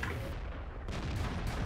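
Video game gunfire forms a dense, continuous roar of shots and booms that fills the moment, loud and close, with no voices.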